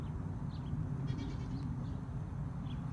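Goats in a farm pen bleat a few times, faint short calls scattered over a steady low background rumble, no speech.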